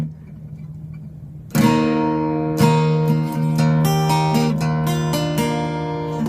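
Guitar chords ring out: one strum, then a series of quick upward strums, each leaving bright sustained strings ringing together.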